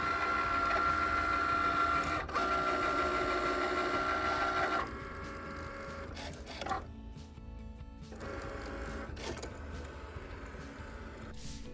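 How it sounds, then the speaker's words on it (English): A Cricut machine cutting cardstock for a Christmas card, a whirring mechanical hum with buzzing carriage movements, shifting tone partway through, then intermittent motor runs and pauses, close and without speech. "Now let's put them in the Cricut and get cutting."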